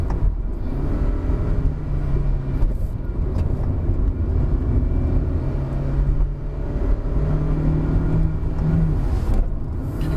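A 2019 Proton Saga engine labouring uphill in third gear on the Genting hill climb, a loud, continuous droning hum heard from inside the car, with only slight rises and dips in pitch.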